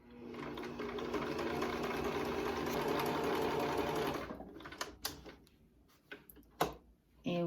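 A sewing machine runs continuously for about four seconds, stitching back and forth over the elastic on a fabric face mask, then stops, leaving scattered handling clicks and faint room sounds.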